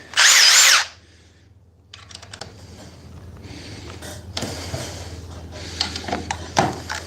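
Cordless impact drivers, a Milwaukee Gen 4 and a Dewalt, run in a live battery test: a loud burst of high whirring at the start, then quieter intermittent clicking and mechanical rattles close by with no talk.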